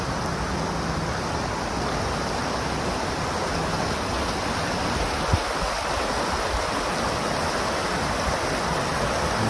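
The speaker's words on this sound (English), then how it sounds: "the creek is somewhat roaring after all the rain we've had" A creek swollen and roaring after heavy rain makes a continuous, even rush of flowing water from start to finish, close and fairly loud, with no speech.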